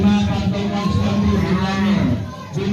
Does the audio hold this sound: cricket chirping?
no